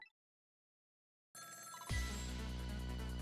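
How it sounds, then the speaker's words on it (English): Telephone ringing in the video game Ghost Trick: Phantom Detective: after a brief blip and a second of silence, a soft tone starts, then a loud, steady ring with a sustained low hum begins. "Every time that phone rings, it's bad news."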